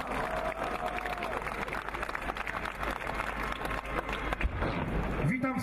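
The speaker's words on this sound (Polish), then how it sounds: "Wielkie brawa dla pana posła." An outdoor crowd at the 2021 Independence March claps and cheers for a member of parliament, a dense, steady roar of applause with an amplified voice faintly present early and a low rumble near the end.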